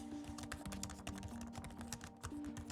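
Rapid typing on the slightly rubbery keys of an ASUS ROG Zephyrus G15 laptop, a quiet, close, irregular patter of keystrokes over a faint steady hum, with no talking.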